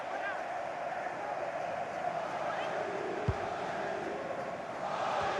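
A stadium crowd in the FIFA 23 football video game roars and cheers steadily throughout, a dense continuous wash of sound under a match commentator's voice.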